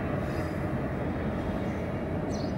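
Underground metro train rolling past, heard from an apartment balcony: a steady, loud broadband rumble and rail roar filling the whole stretch without a break, with no talk over it.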